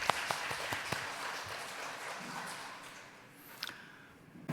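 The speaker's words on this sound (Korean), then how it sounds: "영광의 박수 올려드리겠습니다." A congregation at a Sunday worship service claps in praise, with scattered sharp hand claps at first that thin into softer, sparser clapping fading toward the end.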